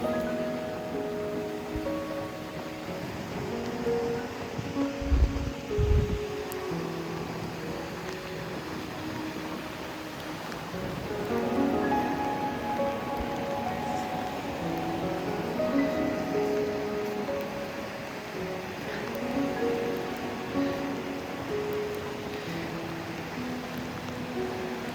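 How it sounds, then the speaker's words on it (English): Surf washing onto Frinton Beach under wind and rain makes a steady broadband roar, with a couple of heavier thumps near the start and a rolling swell of noise through the middle. "here I am on Frinton Beach, in the rain, in the wind, and it's glorious"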